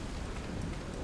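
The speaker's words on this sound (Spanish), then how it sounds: "Miren, está la lluvia." Rain in the game ARK Genesis: a brief, dense hiss of steady downpour with a low rumbling undertone, even and unbroken throughout, no speech.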